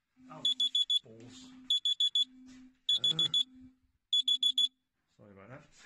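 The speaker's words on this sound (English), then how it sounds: "That was just my alarm going off." An alarm goes off in repeated bursts of four rapid high beeps, loud and close, with a person talking between the bursts.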